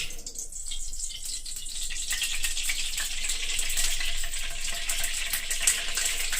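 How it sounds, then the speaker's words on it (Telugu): Oil heating in a hot frying pan gives a steady, fairly loud broadband sizzle that hisses on unbroken for several seconds, with no voices. "ఇప్పుడు పాను వేడెక్కిపోయింది, దీనిలో ఆయిల్ వేసేస్తాను."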